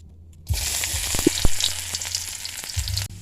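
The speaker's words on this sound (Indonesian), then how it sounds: "ada bawang merah sama bawang putih, kita goreng dulu" Shallots and garlic hit hot oil in a pan and break into a steady, close sizzle that stays loud and even for a few seconds after a quiet start.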